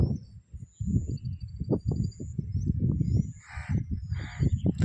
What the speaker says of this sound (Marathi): चांगलं तास दीड तास झालं असाच करतोय हे कावळा